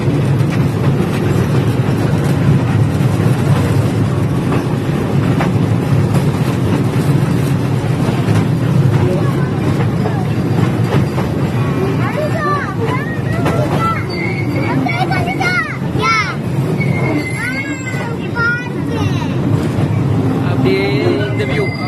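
A passenger train on an outing to the Chennai Railway Museum rolls along with a steady low rumble. Chatter and crowd babble run throughout, with some higher squeals and clatter toward the end.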